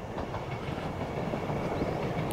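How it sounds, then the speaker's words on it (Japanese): Kintetsu train running close to an ungated level crossing, a continuous rumbling roll with faint rhythmic wheel clatter. "ちょっと待って、その電車乗りたかったんですけど"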